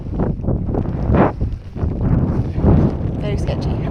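Strong wind buffeting the microphone outdoors on a rainy, exposed stretch of the Scottish Highlands bikepacking route, a loud continuous low rumble surging in gusts.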